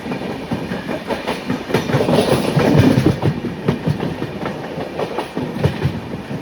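A passenger train on the Secunderabad to Danapur route approaches from ahead, its rolling wheels clattering in a steady, loud clickety-clack rhythm over the rails throughout, with no talk.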